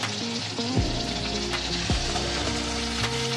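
Eggplant pieces dropped into hot oil in a pan after catfish has been fried, a loud dense sizzle bursting up and holding steady, close with no voices.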